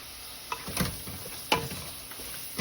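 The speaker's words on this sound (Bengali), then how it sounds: "এই মশলাগুলো দিয়ে ভালো মতো কষিয়ে নেব" Spices for meatballs stirred in a hot pan, with soft scrapes and a few light clinks of a spoon against the pan over a faint background hiss, all quiet and close.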